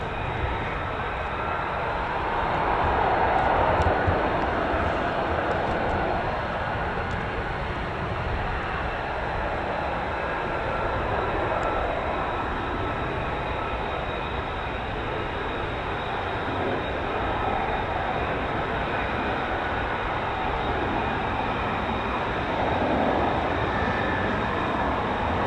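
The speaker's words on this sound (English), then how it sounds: "Two F-35s about to get sent." Two RAF F-35 Lightning fighter jets from 617 Squadron or 207 Squadron take off, heard as a steady, broad, distant jet roar that holds for the whole stretch, with no voices.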